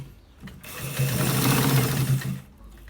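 A sewing machine runs in one continuous burst of about two seconds, stitching a shirt collar, with a steady mechanical whir and rapid needle ticking close up.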